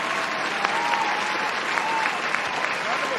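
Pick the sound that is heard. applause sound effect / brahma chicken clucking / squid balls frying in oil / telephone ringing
applause sound effect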